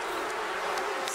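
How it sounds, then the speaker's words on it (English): Swarming enraged bees in The Sims 4 buzz steadily with a dense, agitated drone, close and continuous, with no voices. "Oh my gosh, now you enrage the bees."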